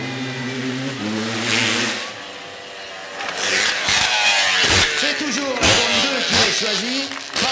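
A Bultaco motorcycle at an outdoor games contest revs hard, its engine rising and falling in repeated bursts, with an announcer talking over it and crowd noise around.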